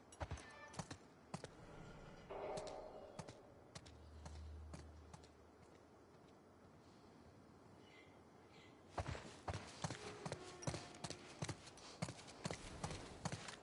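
Horses' hooves clip-clop in The Last of Us Part II, irregular clopping steps that fade to a quieter stretch in the middle before a busier run of hoof strikes returns near the end.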